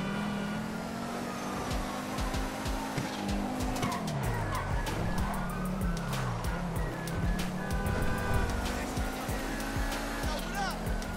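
A Nissan 370Z drifts in GTA V during a police chase, its engine droning and swooping in pitch while tires squeal and skid continuously, with someone talking excitedly over the racket.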